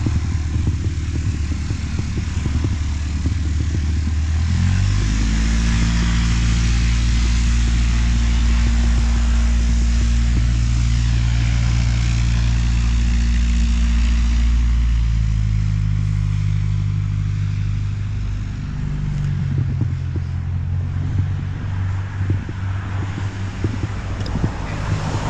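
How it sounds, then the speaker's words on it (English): A small propeller aircraft taxis toward the runway at the Lee-on-the-Solent airfield, its engine droning steadily with shifting pitch steps at a moderate distance, under constant wind buffeting on the microphone. "There's one of the aircraft, small aircraft, just taxiing along to the runway."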